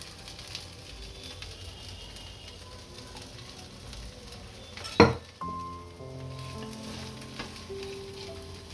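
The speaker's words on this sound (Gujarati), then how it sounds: "આપણે આ રીતે તેલ નાખીને ચડવા દઈશું" Potato lachcha pudla fries in a little oil in a pan with a soft, continuous sizzle. A sharp clank lands midway and the frying crackles on after it.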